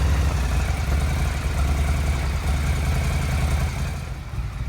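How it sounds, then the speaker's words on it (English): A Yamaha XVS 1100 motorcycle with a freshly reinstalled carburettor and a little choke applied runs with a deep, steady low rumble, loud and close throughout with no talk. "So we're now going to try and start the bike up."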